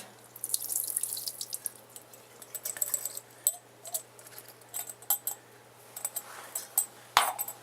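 Water drains from a container of sweet pea seeds soaked overnight, splashing and dripping in uneven spurts close by at a fairly low level, with a brief clink near the end.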